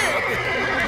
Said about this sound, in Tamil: குதிரை ரொம்ப வேகமா போயிட்டு இருக்கு